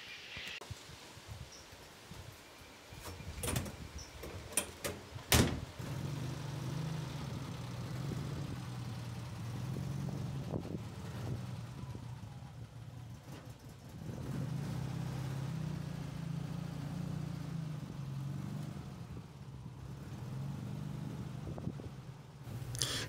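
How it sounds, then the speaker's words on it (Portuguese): Volkswagen Beetle (Fusca) being driven on a farm, a low engine drone rising and falling steadily throughout with a few sharp knocks and clatter early on, outdoors with faint rustling. "pediu para mim gravar eu dirigi no Fusca"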